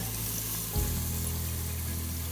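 Chopped onion is dropped into a hot Instant Pot and sizzles, a soft thud followed by steady, even hissing that continues close by.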